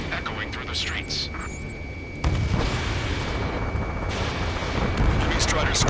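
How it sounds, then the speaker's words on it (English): Dense rumbling gunfire and booming blasts mixed with a roaring jet engine in the video game Ace Combat 7: Skies Unknown, loud and continuous throughout, swelling in intensity partway through. "Gunfire and the roar of jets echoing through the streets."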